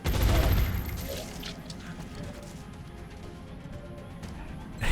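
Burst of automatic gunfire in the strategy game XCOM Long War, a loud rattling volley up front followed by a lower, sustained rumble with faint clatter.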